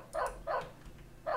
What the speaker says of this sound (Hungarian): valamiért nagyon ugatsz.